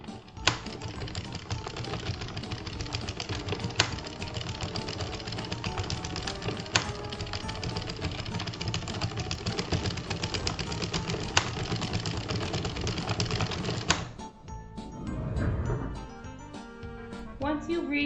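A knitting machine carriage is pushed back and forth row after row while knitting a blanket, producing a continuous close mechanical clatter with sharp clicks before stopping near the end.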